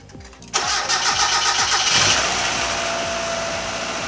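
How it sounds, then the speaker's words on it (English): Mazda Miata engine cranking and catching on new motor mounts, a brief starter burst then a loud, steady idle close by with a slight rev near the middle, no talk. "this is the first startup on the new motor mounts"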